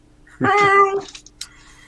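A house cat gives a single drawn-out meow, fairly close and clear, followed by a faint short chirp and quiet room noise.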